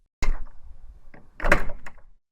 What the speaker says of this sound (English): The door opening and closing firmly as Lou walked out to her truck.